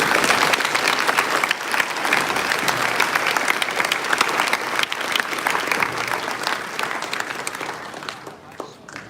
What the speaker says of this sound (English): So please give a round of applause for the efforts made by many.